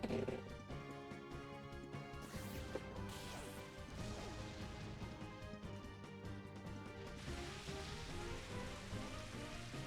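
Rain weather effect in a Pokémon video game, a dense, steady patter of falling rain layered over game music, with sharp crash-like hits breaking through now and then.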